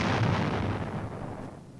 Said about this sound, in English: His strength has been sapped by steady aerial strikes. And heavy artillery barrages.